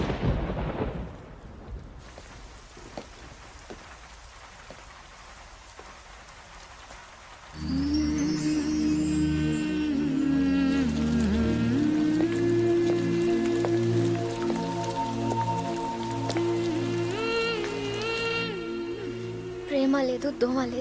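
Steady rain with rumbling thunder in a film scene, a broad wash of noise that continues for several seconds before swelling music takes over and carries on above it.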